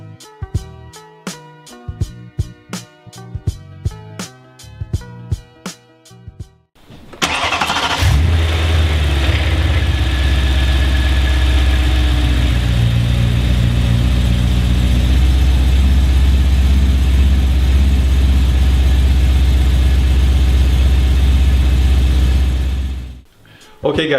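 BMW E90 M3 engine cranks and catches, then settles into a loud, steady, deep idle that runs for most of the clip before cutting off, preceded by quieter clicking and mechanical sounds.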